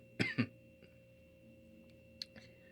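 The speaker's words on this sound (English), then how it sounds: "You didn't have to cough." Two quick close coughs or throat clears, loud and dry against a quiet room with a faint steady hum, followed by soft small rustles and taps in an ASMR setting.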